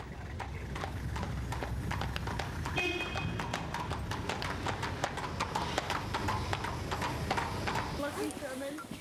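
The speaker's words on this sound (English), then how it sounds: "Rutger is experienced enough to ride Pee-wee, but Jared always stays close by." Horse hooves clip-clop at a steady, brisk pace on a stunt-horse farm, a continuous run of close, crisp strikes with a voice talking over them.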